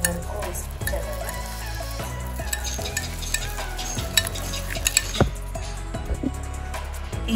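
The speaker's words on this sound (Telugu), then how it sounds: "మన peanut butter cookie Dove shape వచ్చేంత వరకు విస్క్ చేయడమే." A whisk works peanut butter cookie batter in a bowl, making repeated scraping strokes and light metal clinks against the sides with a steady rhythm, with faint background music.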